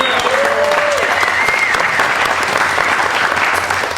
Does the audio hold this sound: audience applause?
yes